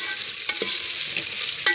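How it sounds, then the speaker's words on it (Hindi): Chopped onions frying to dark brown in half a cup of cooking oil for beef korma, a steady close sizzle with a few soft stirring knocks. "और इसे हम फ्राई करेंगे। प्याज को हम डार्क ब्राउन करेंगे।"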